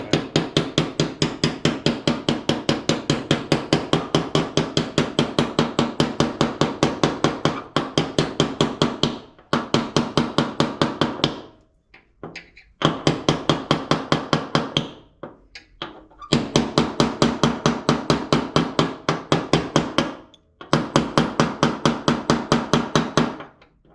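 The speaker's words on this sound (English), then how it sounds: "We like using something like a smaller hammer on this anyway." Rapid, steady strikes of a small hammer on a metal spacer of a Toro TimeCutter zero-turn mower's blade drive, a fast rhythmic tapping in long bursts separated by short pauses, close and loud.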